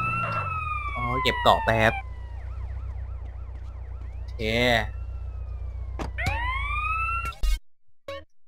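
Wailing ambulance siren in the video game GTA San Andreas, a sweeping warble running almost throughout under game effects, a brief engine and a loud burst. Someone speaks briefly over it.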